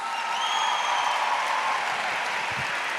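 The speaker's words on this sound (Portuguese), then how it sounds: "Pode aplaudir mais uma vez." A church congregation applauds in steady, dense clapping that holds at an even level throughout, with a faint tonal whistle sounding over it early on.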